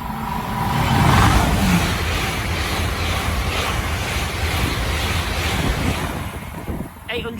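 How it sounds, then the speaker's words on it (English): A Great Western Railway train from Bristol Temple Meads to London Paddington passes through Pangbourne station at speed, a loud continuous broadband rush and roar with wind buffeting the microphone, easing slightly toward the end. "Passing through now is a Great Western Railway service from Bristol Temple Meads to London Paddington."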